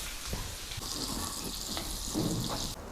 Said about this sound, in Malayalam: ബട്ടറിൽ 3 കളർ ക്യാപ്സിക്കം ഇട്ടിട്ട് അത് ജസ്റ്റ് ഒന്ന് വഴറ്റിയെടുക്കാം.